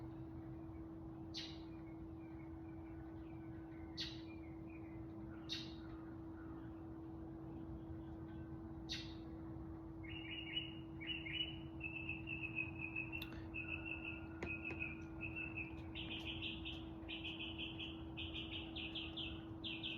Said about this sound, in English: The birds had something to say